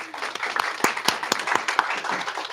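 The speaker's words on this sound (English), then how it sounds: "Standing ovation." A youth summit audience gives a standing ovation, a close, dense burst of clapping with sharp individual claps standing out, continuous and lively.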